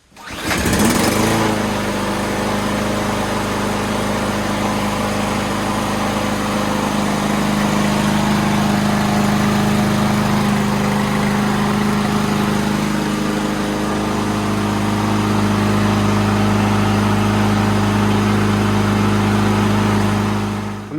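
A Craftsman 163cc push mower engine starts with a sputter, then runs steadily at a constant idle, loud and close, with a slight pitch change partway through.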